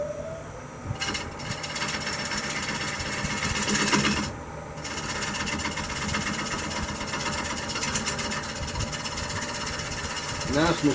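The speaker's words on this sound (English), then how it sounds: "The lathe is virtually quiet, at least compared to my other." A quiet wood lathe turning a maple candy dish, its tool steadily scraping and rasping against the spinning wood over a low motor hum, with someone talking intermittently over it.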